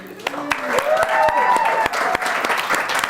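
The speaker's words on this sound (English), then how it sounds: "we don't have to clap" A crowd claps steadily, with a regular rhythmic beat and voices talking over the applause.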